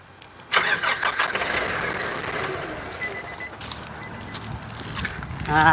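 Nissan Navara NP300 pickup engine cranking and catching at about half a second, then running steadily at idle, close and fairly loud, with a brief faint chirp near the end.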